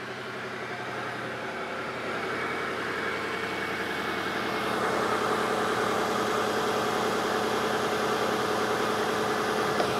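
A car engine idles steadily nearby, a constant low hum and rattle that grows slightly louder about halfway through.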